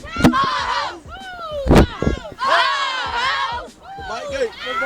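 A youth football team shouts and claps together on the Trojans field, bursts of loud overlapping young voices with a couple of sharp sync claps, close and energetic.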